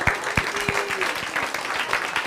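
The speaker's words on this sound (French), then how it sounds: "Retenez ça, on peut applaudir." Steady applause from a church audience at a talk, dense clapping with a few crisp close claps standing out, moderately loud and continuous.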